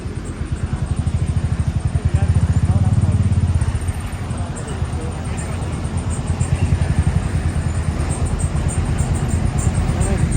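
A motorcycle on a ride around Pokhara thumps with a rapid, steady engine pulse, close and loud throughout, swelling slightly as the throttle opens and then settling back.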